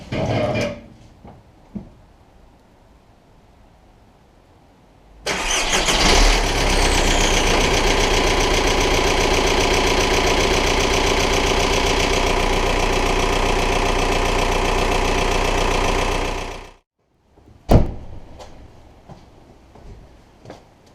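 Volkswagen Golf Mk4 1.9 TDI diesel engine cranks over and settles into a loud, steady idle for about eleven seconds, then shuts off, with a few faint knocks and clicks before and after.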